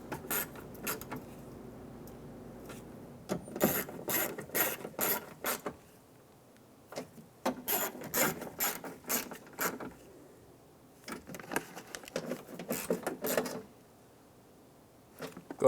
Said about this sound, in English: we're going to go through and tighten them all down